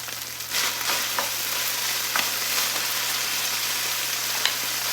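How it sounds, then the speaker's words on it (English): Garlic fries in a pan, giving a loud, steady, close sizzle that runs the whole time, with a few sharp crackles and pops over it and no voices. "So anyway, I'm back to my garlic. Put garlic in there."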